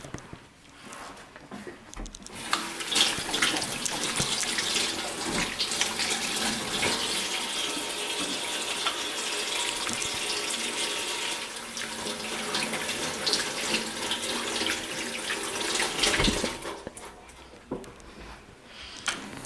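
Tap water runs steadily from a faucet into a sink while hands are washed, a continuous hiss and splash lasting most of the stretch before cutting off near the end.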